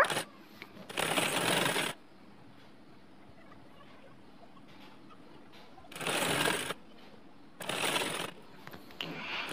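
A sewing machine runs a straight seam on cloth in three loud bursts of rapid stitching, separated by quieter pauses.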